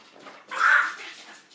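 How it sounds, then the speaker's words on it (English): A short, high whine from a dog, close by, rising briefly then fading. "That's the dog, Moose."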